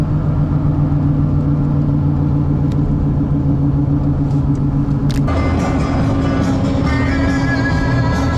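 A car's steady engine hum and road rumble fill the cabin while driving west on a long road trip, loud and continuous, with a shift in engine tone partway through.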